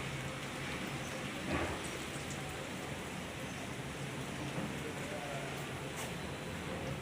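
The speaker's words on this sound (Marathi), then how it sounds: "हे बघा पाऊस येतोय सकाळपासूनच येतोय पाऊस" Steady rain falls outside a house on a dark monsoon day in Khandesh, a soft, even hiss of drops that stays constant and fairly faint throughout.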